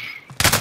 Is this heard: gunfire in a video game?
yes